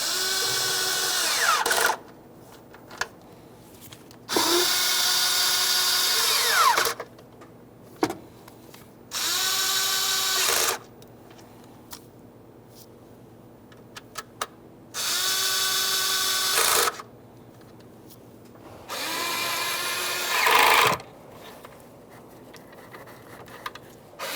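A power tool snugs bolts on the 3.5L V6 engine of a 2015-2020 Ford F-150 in five loud, close whirring bursts of a few seconds each. Each burst pitches down as the bolt seats, with quiet clicks and handling noise between bursts.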